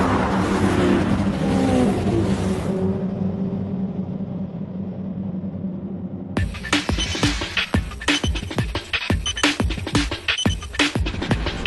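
Race cars in a racing video game: a steady engine drone at first, then a stretch of sharp, rapid clicking bursts over a rumbling background, with no voices.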